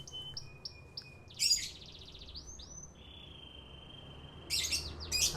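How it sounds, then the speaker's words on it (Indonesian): A canary sings nearby in a bright, rapid series of repeated whistled notes and trills, with a few sharp bursts between phrases. "Ini pagi, siang, sore, malam bunyi terus nih kenari nih."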